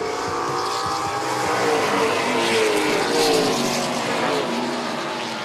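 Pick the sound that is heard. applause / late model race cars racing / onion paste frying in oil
late model race cars racing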